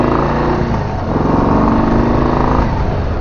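A 2025 Harley-Davidson Low Rider ST motorcycle on the road, its engine a loud, close, throbbing rumble that holds steady as it rides, with no voices present.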